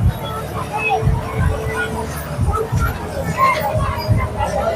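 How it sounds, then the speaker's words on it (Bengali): Dense crowd of Shiva devotees at Bakreswar temple on the last Monday of Shravan, a steady outdoor hubbub of many voices close by, with a low hum and the speaker talking over it throughout. "বন্ধুরা এখানে কি পরিমাণ ভিড় আছে আর কিভাবে মানুষ পেরোপার করছে দেখো"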